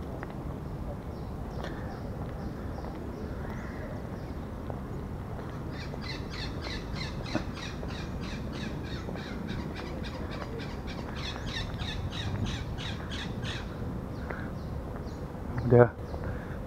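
Birds call repeatedly at Gelora Bung Karno (GBK) stadium in Jakarta, a chorus of chirps rising over steady outdoor background noise, with people talking nearby.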